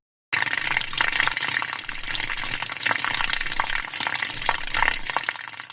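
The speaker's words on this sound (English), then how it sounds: "Yes, I poured baby oil on the kitchen floor." Baby oil poured out onto a kitchen floor, a steady close liquid gushing and splashing that runs continuously from just after the start to the end, with no talking.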